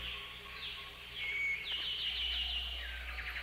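Birds sing at dawn in a forest, high chirps and trilling calls rising and overlapping over a low background hum, moderately faint and continuous.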